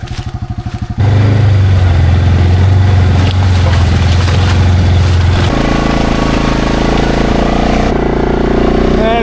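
A four-wheeler ATV engine idles loudly and steadily up close, its low throb holding after a brief quieter start and dropping in pitch partway through, with no talk over it.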